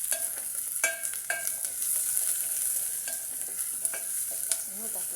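Kalo and omena fry in a pan with tuna, a steady close sizzle broken by several sharp scraping strokes of a spoon stirring the mixture.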